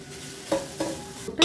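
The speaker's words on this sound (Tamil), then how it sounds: "முந்திரி பருப்பை ஃபஸ்ட்டு வறுத்து எடுத்துக்கலாம்" Cashew nuts roast in a pan as a spoon stirs them, soft scraping strokes and light sizzling in a short close burst, three quick stirs.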